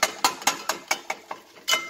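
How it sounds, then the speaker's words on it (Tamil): Metal dosa spatula and ladle chop and scrape through egg kothu parotta in a pan, a rapid run of about eight sharp clanking strikes in an uneven rhythm, close and alone without talk. "இப்போ நல்லா ஒரு தோசை கரண்டியும் இந்த கரண்டியும் வச்சு நம்ம கடையில் கொஞ்சமாக நல்லா மிக்ஸ் பண்ணி"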